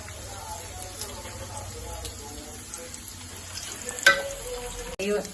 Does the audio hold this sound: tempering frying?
yes